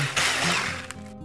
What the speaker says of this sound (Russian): маскарпоне необходимо взбить тоже блендером